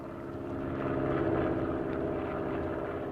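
Small propeller plane flying overhead as a radio drama sound effect, a steady droning engine hum that swells slightly in the middle and holds at moderate level throughout, with no voices.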